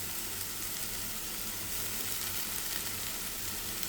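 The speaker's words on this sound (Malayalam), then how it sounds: "ഇനി ഇതിലേക്ക് നമ്മൾക്ക് മുരിങ്ങയിലയുടെ പൂവുകൾ ഇട്ട് കൊടുക്കാം." Moringa flowers frying and being stirred in a pan for thoran, a steady, continuous sizzle with a faint low hum beneath it, close and quiet throughout.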